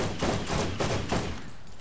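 Gunfire in the video game Borderlands from a sniper rifle, sounding as a fast run of loud, booming shots about a quarter second apart before trailing off.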